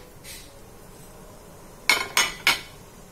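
Three sharp knife chops on a cutting board as spice ingredients are sliced for a banana blossom stir-fry, quick taps near the end after a quiet stretch.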